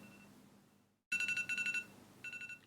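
An electronic alarm rings out in rapid pulsed beeps, two clustered bursts followed by a shorter one after a brief quiet pause.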